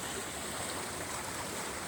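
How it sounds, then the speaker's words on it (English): Brook water flowing heavily across a rural property near a shed, a steady, dense rushing hiss, constant and fairly faint, with no voices. "It's just too much water to be coming through here."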